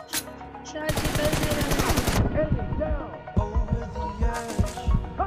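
A shooter video game team deathmatch produces rapid bursts of automatic gunfire and single shots, loud and close, with game sound effects in between.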